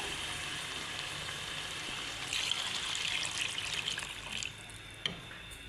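Water poured into a pot of browned aloo gosht meat, a steady trickle that swells into a sizzling splash partway through, then ebbs with a small clunk near the end.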